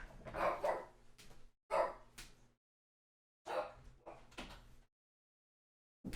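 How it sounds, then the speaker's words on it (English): A dog barks in several short bursts with pauses between, fairly close and moderately loud, with no talking. "And my dog's barking."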